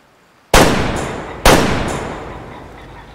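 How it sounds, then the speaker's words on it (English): Two sharp, loud hunting rifle shots about a second apart in the video game Way of the Hunter, each cracking close and trailing into a long fading echo. "I shot him."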